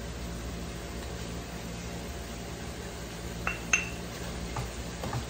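A utensil clinks a few times against a pan as tomato sauce is stirred, small sharp taps over a quiet background hiss.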